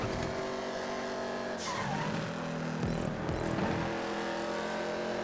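Race cars roar around a track in GTA 5, engines droning steadily with tire squeals and a car whooshing past midway, continuous and fairly loud.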